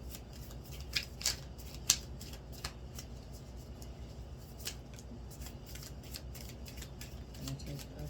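Tarot cards drawn and shuffled by hand at a table, a run of soft papery riffles and flicks with a few sharper snaps, close and fairly quiet, with light background noise.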